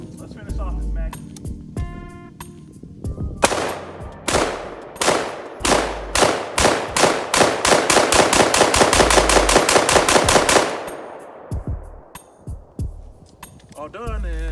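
A rapid string of loud rifle shots from an ATI Omni Hybrid multi-caliber rifle as a magazine is emptied, starting as spaced single shots then speeding into fast close-range fire, with brief talk before and after.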